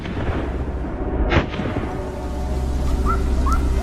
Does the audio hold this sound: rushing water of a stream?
no